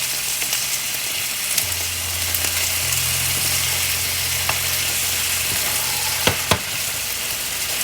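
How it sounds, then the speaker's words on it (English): Potatoes frying in olive oil in a skillet, a steady close sizzle and crackle with occasional clinks and scrapes of a utensil stirring in the pan and a low appliance hum underneath. "you have to keep sauteing it in the oil"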